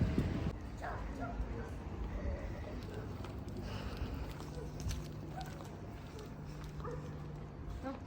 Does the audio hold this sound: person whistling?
no